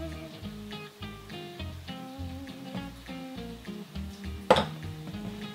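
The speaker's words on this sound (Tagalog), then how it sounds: "Gagamitan ko lang to ng spatula para hindi ako matalsikan paghalo." Brookie batter stirred with a spatula in a bowl, giving a steady run of soft scraping and occasional clinks against the sides, with one sharper knock near the end, all over a continuous music bed.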